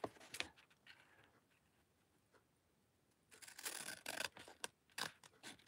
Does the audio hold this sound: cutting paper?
yes